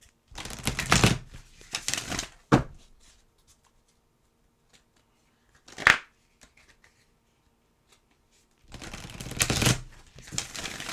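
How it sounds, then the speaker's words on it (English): Moonology oracle cards are shuffled in several short, dry riffling bursts, close to the microphone, separated by quiet gaps, with a final longer flurry at the end. "Shuffle these up."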